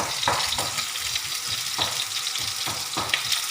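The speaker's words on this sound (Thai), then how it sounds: "ผัดหมูคอนะ เดี๋ยวก็ใส่กระเทียม ใส่กระเทียม" Pork neck stir-fried with garlic in a pan at home, a steady loud sizzle with repeated scraping strokes of the spatula every second or so, close up and without talk.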